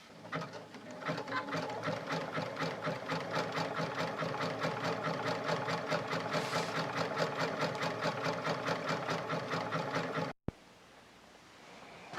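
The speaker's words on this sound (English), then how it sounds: "Point on sewing this rope is that middle dot on the presser foot." A sewing machine stitches through rope for a trivet, running in a steady fast mechanical whir with rhythmic pulsing, close up, then stopping abruptly near the end.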